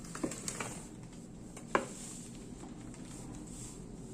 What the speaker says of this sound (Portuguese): Daqui pra frente eu uso só a espátula mesmo.